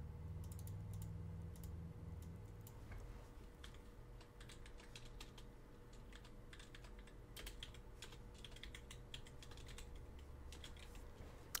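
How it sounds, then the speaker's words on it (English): Faint keystrokes on a computer keyboard as a name is typed, irregular bursts of clicks over a low steady hum, no talking. "If I can type my own name."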